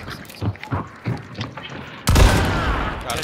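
Gunfire rings out in the video game Hunt: Showdown: several scattered thumping shots are followed by a sudden loud, sustained burst of firing.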